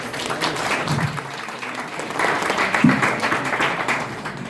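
Audience applause fills a conference hall, a steady wash of clapping at moderate level that swells briefly midway and holds to the end, with no talk over it.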